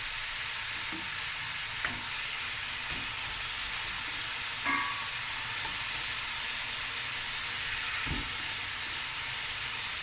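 Mutton curry with curry leaves sweating in a pot, a steady close sizzle and hiss with a few light stirring knocks scattered throughout.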